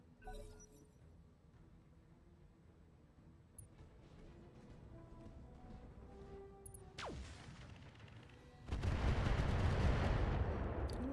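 Missile salvo striking a mech in the RogueTech BattleTech mod, a sharp whoosh followed by a loud sustained burst of impacts near the end, after a quieter stretch of mechanical hum.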